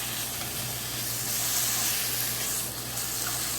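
Meat stir-fried in a hot pan already slick with sesame oil for a Korean bean sprout duruchigi, giving a loud, steady sizzle and hiss that swells slightly midway, with no voices over it.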